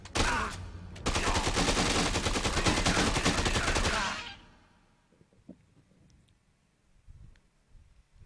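Dense automatic gunfire from the video game Dead Rising 2, loud and sustained for about four seconds after a brief opening burst, then cutting off to quiet game ambience with faint clicks.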